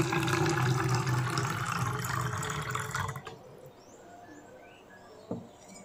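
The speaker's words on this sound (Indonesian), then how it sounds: "air Ibu masukkan ke dalam botol." Water pours into a bottle, first as a strong, rushing stream for about three seconds, then dropping to faint trickles and one sharp drip or knock near the end.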